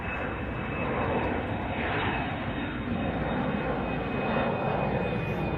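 Jet aircraft roar steadily at Chicago O'Hare, Atlas Air and Lufthansa planes, a broad, sustained rumble with a thin high whine, moderately distant and continuous without talk.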